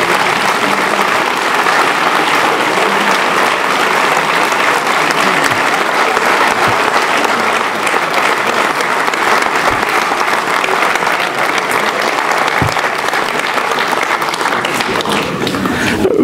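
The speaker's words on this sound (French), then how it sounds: "Vous pouvez les applaudir, elles le méritent." A full audience applauds steadily and loudly at a mayor's New Year ceremony in Mennecy, with dense clapping sustained throughout and no break.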